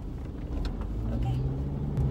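A car drives along a road, a steady low engine and road rumble with some faint voices underneath.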